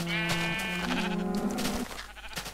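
A Minecraft sheep in a small flock lets out a long, wavering bleat near at hand, followed by quieter background game ambience.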